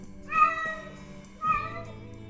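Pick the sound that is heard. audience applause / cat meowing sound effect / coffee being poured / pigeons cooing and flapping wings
cat meowing sound effect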